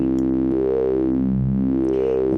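A Voltage Modular partial oscillator hums a rich harmonic synth tone whose partials sweep slowly up and down under LFO frequency modulation, loud, steady and continuous with no talking.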